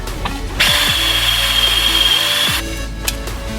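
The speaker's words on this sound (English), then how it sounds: "So I am going to drill these 2 screws out" A power drill drills out the front brake rotor retaining screws on a 2012 Acura TSX, a steady high whine lasting about two seconds, close and loud, with clicks and handling noise before and after.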